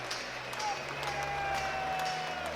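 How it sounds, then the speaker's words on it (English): Fans in Falkirk's main stand applaud the Falkirk players, a steady wash of clapping under crowd murmur with a commentator speaking over it. "As the Falkirk players take a well-deserved round of applause from the main stand here"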